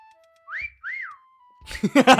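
A person whistles two short rising-and-falling notes followed by a long held tone, clear and close, before voices break in with talk at the end.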